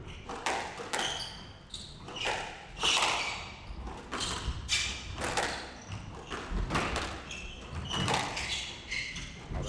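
A professional women's squash match on court, with repeated hollow thuds of the ball striking rackets and the front wall in a quick irregular rally, set against faint court ambience.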